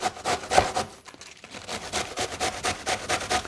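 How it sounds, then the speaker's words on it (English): Cabbage grated quickly by hand, a rapid rhythmic rasping of strokes close to the microphone, steady apart from a brief pause. "You just kind of just grate the cabbage."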